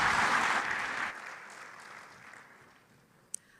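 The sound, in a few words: applause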